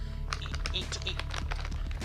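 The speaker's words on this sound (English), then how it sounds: "Sorry for the rustling." Crinkling plastic packaging of a dark chocolate loose leaf tea being opened and handled up close, with a steady stream of crisp rustles and crackles throughout.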